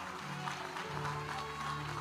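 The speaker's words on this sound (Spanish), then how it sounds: "yo quiero que usted le dé un aplauso a Cristo" A church congregation gives soft, continuous applause, distant and low in level, with a voice speaking over it.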